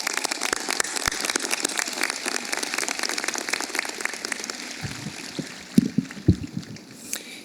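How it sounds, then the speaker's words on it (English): Applause from a crowd at a university graduate commencement ceremony, with dense clapping that thins after a few seconds into scattered claps and a few louder knocks or handling noises near the end. "let's please have a round of applause for Dr."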